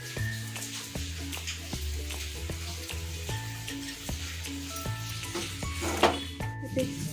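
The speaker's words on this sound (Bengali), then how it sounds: "সুজি দিয়ে, নারকেল দিয়ে, চিনি দিয়ে একটু নেড়ে চেড়ে নিচ্ছি।" Semolina, grated coconut and sugar are stirred in a pan for coconut suji barfi, with a soft ongoing sizzle and regular scraping strokes of the spoon recurring roughly every second, close and moderately quiet.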